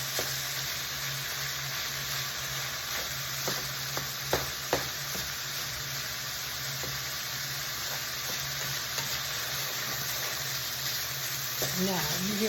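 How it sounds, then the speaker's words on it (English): Steady, crackling sizzle of beef refrying in a pan for burritos, with a few louder pops and spatters rising above the continuous hiss. "you hear how it's frying versus how it sounded a little while ago?"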